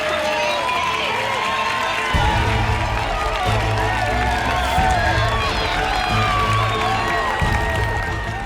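A large outdoor crowd cheers, whoops and applauds continuously for a dog named Mowgli walking the red carpet at an ugliest-dog contest, with steady dense cheering and a rhythmic low thumping underneath.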